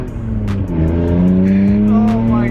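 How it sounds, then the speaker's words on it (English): A BMW E36 M3 drifting, its engine revving hard and steadily close by while tires squeal in bursts, the engine tone rising through the clip. "this car is so much easier to drift than like the E92"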